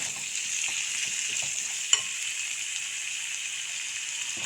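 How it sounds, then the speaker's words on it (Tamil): Fresh green peas sauté in a hot pan with a steady, moderate sizzle and light stirring, broken by one sharp tap of the utensil midway. "பச்சை பட்டாணி. இதையும் சேர்த்து ஒரு வதக்கிட்டு"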